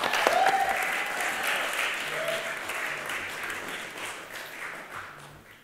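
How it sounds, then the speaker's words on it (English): Audience applause at a creative contributions evening before a poem reading, a steady wash of clapping that slowly fades over several seconds, moderately distant with no speech over it. "Please give a round of applause for Rihanna."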